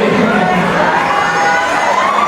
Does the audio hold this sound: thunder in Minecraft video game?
no